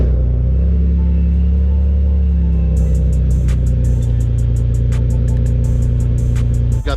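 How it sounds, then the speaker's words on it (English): A supercharged Cadillac engine on a cold start settles into a loud, steady low rumble and hum up close, with a faint ticking rattle joining partway through. "Let's give this thing a cold start."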